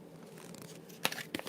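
Tarot cards being shuffled by hand: two quick papery riffling bursts stand out near the end of a quiet, close stretch, with no talking.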